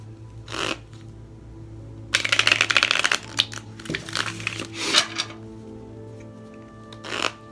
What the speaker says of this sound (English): We're going to do 7 shuffles